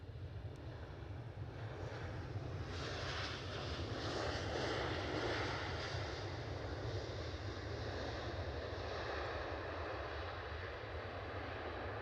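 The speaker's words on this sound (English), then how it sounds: "So Icelandair look like they're on the way out, as in taxiing out" Icelandair airliner taxiing out at Edinburgh Airport, a steady, continuous jet engine rumble and whine at moderate distance, swelling slightly midway, with wind buffeting the microphone throughout.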